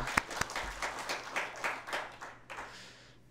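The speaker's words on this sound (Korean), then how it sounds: "박수로 감사를 표하겠습니다" A church congregation claps during a Sunday worship service after a Bible reading, the applause fairly quiet and sparse with a few sharper individual claps standing out.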